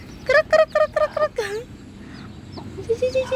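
A grumpy hen clucks close by in a quick run of sharp, throaty notes, then gives softer scattered clucks and faint chirps from chicks or other birds.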